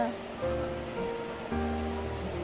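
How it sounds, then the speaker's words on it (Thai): Phlio waterfall in Chanthaburi sends up a steady broadband rush of falling water, heard close and continuous, while a faint voice or tone sits beneath it. "เสียงน้ำตก"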